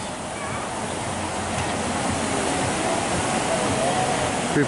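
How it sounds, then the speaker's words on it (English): Continuous broadband roar of Niagara Falls heard from a distance at night, steady and unbroken, with some wind noise on the microphone. "There's the waterfalls."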